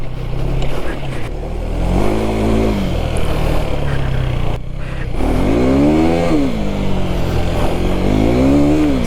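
A KTM Enduro 390 R motorcycle rides off-road on uneven ground, its engine revving up and down in repeated rising and falling sweeps, loud and near, with a brief dip in the middle.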